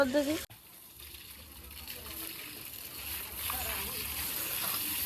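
A hose pipe sprays water onto the walls of a new house, a steady hiss following a short voice and a sharp knock at the start.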